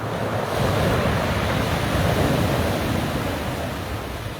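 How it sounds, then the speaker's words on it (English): Rough sea water churns in bad weather, a steady loud roar of waves and surf with a broad hiss of wind across the microphone, continuous and close with no voices. "You can't take a swim in this, you know, your water. Listen to it. You're rough,"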